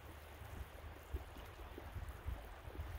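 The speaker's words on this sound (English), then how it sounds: "This is like coming straight out of the ground here. You can see it just bubbling out of the rocks." Cold mountain spring water bubbles out of rocks at its source near a Montana creek, a faint, soft, continuous trickle and gurgle with low rumbling wind.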